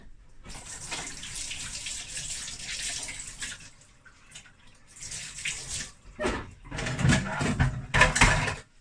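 Hands are washed under a running tap: bursts of splashing water stop and start, with a long run at first and shorter loud gushes near the end, and no talking.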